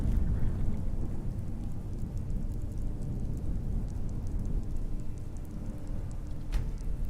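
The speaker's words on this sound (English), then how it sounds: "Let's make it stop raining." Steady rain in Skyrim hisses and patters evenly throughout, a dense wash of sound with one brief sharper crackle near the end.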